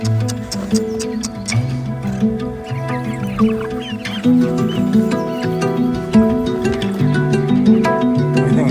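Hens cluck and rooster-like calls repeat steadily at close range, with overlapping bird voices throughout and no talking.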